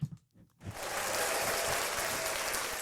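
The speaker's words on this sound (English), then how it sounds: "Would you like a round of applause?" Canned applause fired off a soundboard swells in after a brief pause and holds as a dense, steady wash of clapping and cheering.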